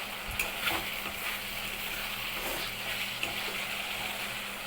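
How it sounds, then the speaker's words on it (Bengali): Fried potatoes and shrimp sautéing in a pan give off a steady, even sizzle, with a few faint stirring scrapes and no voices over it. "ভাজা আলু আর চিংড়ি মাছটা দিয়ে একটু কষাবো।"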